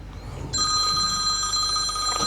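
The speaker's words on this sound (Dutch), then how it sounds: "Telefoon. Telefoon." Telephone rings aboard a river barge in the engine room during a main engine service, a steady electronic trill starting a moment in and continuing loud over low mechanical background rumble.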